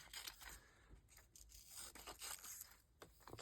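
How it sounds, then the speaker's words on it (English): Scissors snip and tear through tape during a craft project, a run of close, crisp cutting and ripping sounds with no talking. "let's go ahead and cut up where the tape is"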